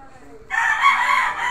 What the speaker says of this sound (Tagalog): bumibida ang ating manok ng kapitbahay pala